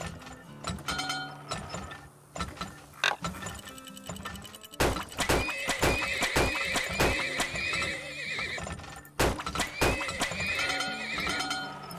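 Horses neigh and whinny in the oil-drilling video game Turmoil, with repeated high whinnies over busy clip-clop hooves and clanking, ratcheting machinery, continuous and fairly loud, with no talking.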